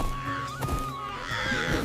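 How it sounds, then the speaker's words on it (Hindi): Crow cawing loudly in a forest, a few harsh nasal calls over a busy background, near and fairly prominent. "एक कौवा जोर जोर से चिल्लाता हुआ जंगल में इधर से उधर सबको सावधान करता हुआ उड़ रहा था।"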